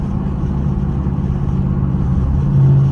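Dodge Scat Pack muscle car engine revs hard and steadily while cruising through a residential neighborhood, a loud, close, continuous rumble that swells slightly near the end.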